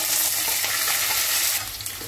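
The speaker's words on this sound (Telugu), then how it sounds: "ఈ హోల్ గరం మసాలా అన్నీ వేగిన తర్వాత పచ్చిమిర్చి, నిలువుగా తరుగుకున్న ఉల్లిపాయలు" Green chillies and sliced onions frying in oil with whole garam masala for mutton fried rice, a loud close sizzle that drops in intensity near the end, no talk.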